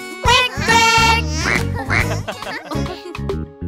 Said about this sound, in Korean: 나는 바로 꽥꽥오리